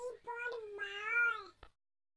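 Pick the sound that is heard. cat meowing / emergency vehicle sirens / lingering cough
cat meowing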